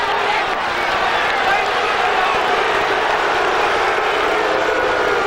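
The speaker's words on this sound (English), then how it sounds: "And oh, is the crowd in it now at Doak Campbell Stadium" A stadium crowd roars at Doak Campbell Stadium during a 1999 Georgia Tech versus Florida State college football game, a steady broad wash of cheering beneath a commentator's voice.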